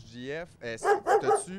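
A dog barks and yips in a short cluster of sharp calls, fairly close, mixed with people talking.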